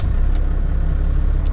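A Cummins diesel truck engine, a 7.3, idles steadily nearby just after being started. It gives a continuous low rumble with no talking.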